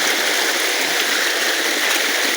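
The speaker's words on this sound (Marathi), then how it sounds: "फुल धबधबा" Full waterfall pouring steadily, a constant hissing rush of falling water close by, no voices over it.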